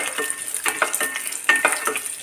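Cashews fry in hot oil for lemon rice, a soft close sizzle broken by repeated scraping stirs of a spoon against the pan, with no voices.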